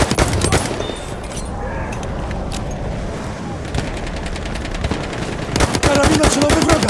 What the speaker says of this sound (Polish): Karabin maszynowy wroga!